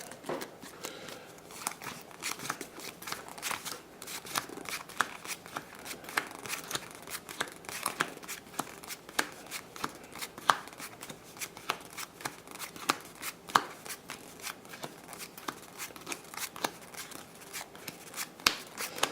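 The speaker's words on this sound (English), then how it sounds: "So I'm going to pile shuffle these out" Magic: The Gathering cards being pile shuffled, a steady run of crisp card slaps and flicks close up throughout, with a few sharper taps standing out and no talking.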